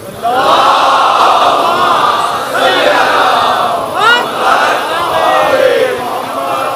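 A large crowd at a Muharram majlis recites salawat loudly together, a dense chorus of voices in several swelling waves.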